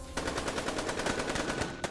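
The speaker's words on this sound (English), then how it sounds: "Resounding blasts of gunfire can be heard." Rapid automatic gunfire from the NIKKE shooter video game, a fast loud burst of evenly spaced shots that starts abruptly and continues for nearly two seconds, with no talking.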